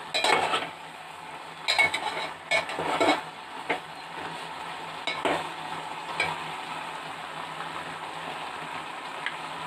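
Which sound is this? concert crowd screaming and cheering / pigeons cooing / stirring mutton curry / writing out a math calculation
stirring mutton curry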